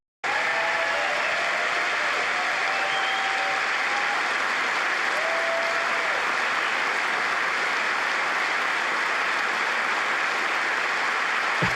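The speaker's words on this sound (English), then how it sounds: "There's a lot of this clapping business." Sustained applause from members of the US Congress during a Netanyahu address, a steady dense wash of clapping filling the whole stretch with no pause and no speech over it.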